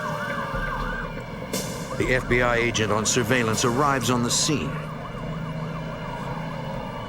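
An ambulance siren wails in rising and falling sweeps, loudest in the middle and fading toward the end, under a narrator's voice talking throughout.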